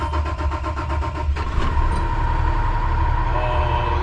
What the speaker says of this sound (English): So the first thing we have to do is start the engine.